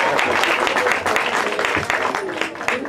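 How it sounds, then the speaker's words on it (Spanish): Audience clapping at a book presentation event at a fair, a close, loud patter of individual claps with uneven rhythm, mixed with some voices underneath. "Un aplauso para todos"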